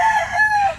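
Late-born gamefowl stag crowing in a breeding pen, a single sustained crow with a wavering tone, close and fairly loud, alone without talk.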